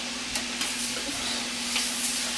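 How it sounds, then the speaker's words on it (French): Pasta, ham and peppers stirred together in a hot pan for homemade Hamburger Helper, a steady sizzle with soft scraping strokes from the spoon and a constant low hum beneath. "On remélange ensemble"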